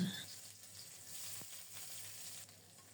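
Onion and garlic frying in hot mustard oil with panch phoron spices, a steady, fairly quiet sizzle with a soft stirring knock near the middle, no voices.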